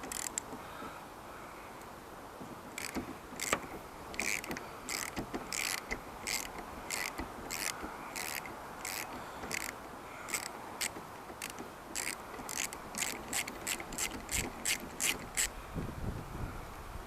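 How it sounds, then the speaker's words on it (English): A 13mm socket ratchet works the wiper arm nut on a Land Rover Discovery 2, giving quiet, close bursts of rapid clicking in a steady rhythm, with short pauses between strokes. "13mm socket."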